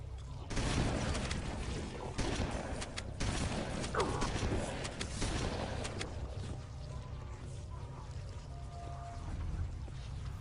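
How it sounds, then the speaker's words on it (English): A frag grenade thrown against a wall in Halo: Combat Evolved on PC goes off, a loud roaring blast with scattered bangs and rumbling debris among ongoing game combat noise. "it's good to throw a frag against the wall first"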